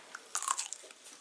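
A single crunchy bite into a very large grape, a short close crackling snap followed by brief chewing noises.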